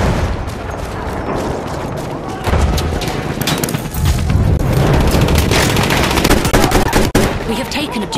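Machine gun fire in Battlefield 1, loud continuous bursts of rapid shots mixed with booms and battlefield noise, a voice heard briefly.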